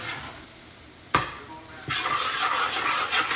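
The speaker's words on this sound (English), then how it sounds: "we're gonna saute all this together" Vegetables sautéing in a Louisiana-style roux over medium heat: a sharp clank of a utensil, then a steady broad sizzle with stirring scrapes, close and continuous.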